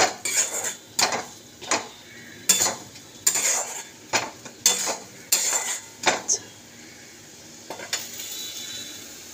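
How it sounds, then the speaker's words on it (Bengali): Masala for egg curry is stirred in a pan with a metal spatula, which scrapes and clanks against the pan in about a dozen uneven strokes while faint sizzling continues underneath. "এবার এটাকে চালিয়ে দিতে হবে।"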